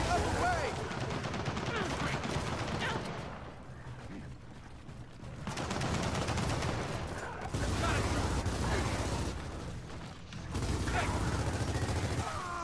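Turret gunfire in the Gears of War 4 video game, repeated sustained bursts of rapid mechanical firing separated by brief lulls, loud and close with other battle noise.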